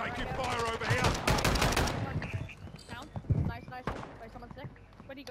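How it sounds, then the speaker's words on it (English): Rapid gunfire in the Call of Duty: Modern Warfare II video game, with loud bursts of shots up close in the first half that thin to scattered cracks, under brief player talk. "Taking fire over here."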